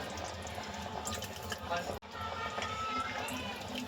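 Mutton cooking water, left from boiling the meat, poured into a dhaba-style mutton curry, giving a steady liquid rush with one abrupt cut midway.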